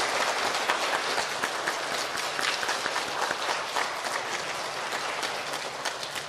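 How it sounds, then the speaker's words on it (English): At an elementary school student recognition ceremony, the audience applauds two honored students with a continuous, dense round of clapping that holds steady for several seconds. "Let's give them a round of applause."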